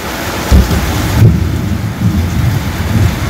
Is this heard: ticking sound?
no